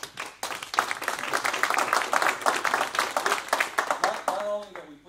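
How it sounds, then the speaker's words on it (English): A smaller audience at an entrepreneurship policy conference gives a round of applause, distinct claps clearly separable in an uneven patter that tapers off as a voice begins at the end. "Let's give them a big round of applause, everybody."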